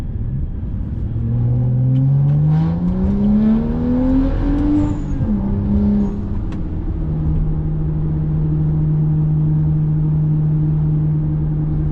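A loud tuned BMW M235i engine revs up hard, rising in pitch through the gears, then settles into a steady high drone as it surges past, overtaking a tractor.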